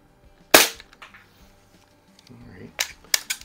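A Crosman 2200 Magnum .22 caliber pump air rifle, tested after repairs, fires across a garage: one sharp, close crack, then quieter handling sounds and a couple of further sharp clicks near the end.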